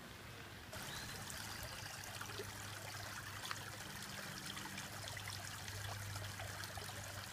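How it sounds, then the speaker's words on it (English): Water runs over a small creek crossing under a little bridge at Beaver Creek, a steady, soft trickling and gurgling stream that carries on evenly throughout with no talking. "Here at a little creek crossing where the water sounds pretty."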